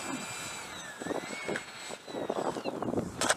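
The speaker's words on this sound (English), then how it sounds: "Boy, that is a big airplane." A Freewing F-22 90mm electric ducted-fan model jet flies on a windy day, a thin whining turbine tone sweeping in pitch at a distance, with gusts of wind buffeting the microphone.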